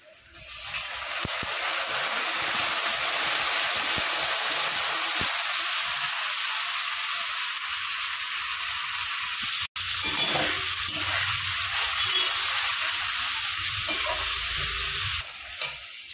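Lightly fried red lentils (masoor dal) hit a hot pan for jute leaf dal, giving a loud, steady sizzle and hiss with stirring, one sharp knock midway and a brief clatter near the end.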